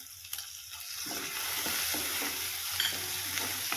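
Tomatoes frying in a pan while being stirred, producing a close, continuous sizzle with a few sharper spatter bursts and light stirring scrapes, no talking.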